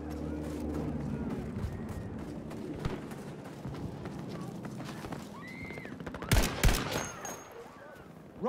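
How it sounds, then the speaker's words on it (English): Machine gun fire rattles in the video game Battlefield V, with bursts of shots buried in a dense din of battle and voices, until a few sharper, louder cracks stand out near the end. "enemy machine gunner. Watch it!"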